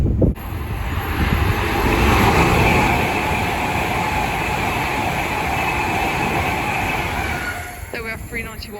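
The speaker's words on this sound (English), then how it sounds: "There we have 39151 working Avanti West Coast service from Manchester Piccadilly to London Euston." A Class 390 Pendolino electric train on an Avanti West Coast service from Manchester Piccadilly to London Euston passes at speed through Lichfield Trent Valley. A loud, sustained rushing roar swells and holds steady, ending in a brief high squeal.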